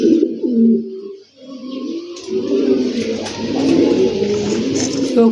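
A Maxi male pigeon coos in deep, repeated rolling phrases, close and loud, with a brief pause before the calls continue steadily alone.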